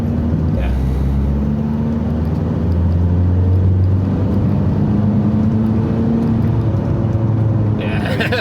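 A remapped VW T5 Transporter 1.9 TDI turbo diesel van engine drones and pulls under load, its pitch climbing in steps as it accelerates through the gears, with a steady cabin rumble throughout.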